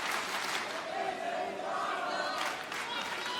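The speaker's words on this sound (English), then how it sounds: "And the crowd here in Manhattan in the Hammerstein Ballroom." Wrestling crowd packed into the Hammerstein Ballroom in Manhattan, a steady roar of cheering and shouting that fills the room without a break, loud and close.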